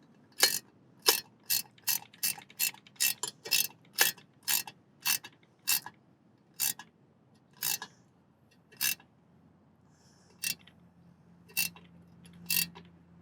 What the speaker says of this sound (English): And again, the ratcheting.